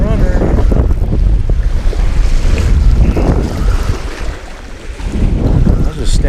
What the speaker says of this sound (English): This wind is chilly this morning.